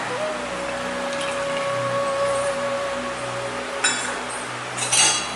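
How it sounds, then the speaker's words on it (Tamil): Cashews dropping into melted ghee in a pan on high flame, sizzling and crackling steadily with a few clinks of the nuts and utensil against the pan near the end. "இப்போ நான் முந்திரி போட போகிறேன்"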